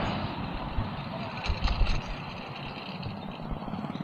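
Heavy rush-hour traffic along Quirino Avenue in Las Piñas City, with a dense, continuous roar of trucks and cars, a brief louder swell of a heavy vehicle passing close and faint beeping above the din.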